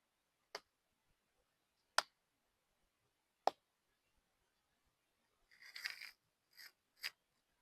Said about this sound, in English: I'll clap and then everybody just kind of go through and clap and then just wait quiet.